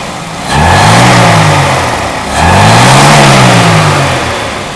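A Mercedes W123 230E engine, freshly overhauled, revs twice in quick succession, rising and falling each time, then drops back toward idle. It is loud and close, with no talking.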